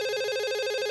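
A telephone rings in a Minecraft roleplay scene, a steady electronic warble trilling continuously at an even level, clear and alone with no voices.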